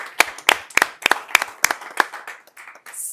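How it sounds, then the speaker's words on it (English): A board meeting audience gives a round of applause, a few distinct nearby claps in a loose, slowing rhythm that thins out and fades after about two and a half seconds. "So if we can take just a moment and send them a big round of applause."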